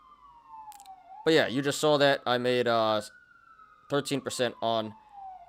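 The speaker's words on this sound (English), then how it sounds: "Sorry about the sirens, guys." Police sirens wail steadily outside in a long, even tone that drifts slowly lower as they pass, while someone talks over them in bursts.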